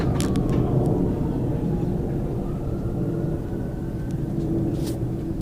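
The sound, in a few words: airplane flying overhead in stormy clouds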